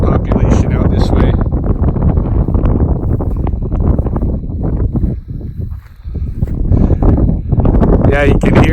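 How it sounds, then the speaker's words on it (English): Strong wind buffets the microphone outdoors in a coulee, a loud, continuous roar with gusts that rise and dip briefly, while a person speaks underneath. "Yeah, you can hear it's getting a bit windy."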